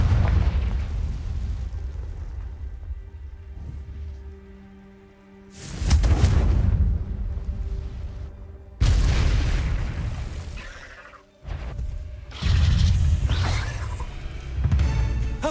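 Repeated Confringo fire-spell blasts from Hogwarts Legacy, PS5 gameplay: three heavy booming explosions with rumbling tails, each burst loud and broadband, separated by quieter ambient stretches.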